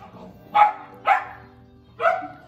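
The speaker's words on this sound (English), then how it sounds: "excuse the dogs." Dogs bark three times, sharp and fairly close, in a quiet room, with short pauses between the barks and no speech over them.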